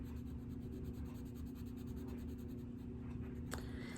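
Steady, rhythmic scratchy strokes of a Prismacolor colored pencil rubbing on paper, close and continuous, with a low hum underneath.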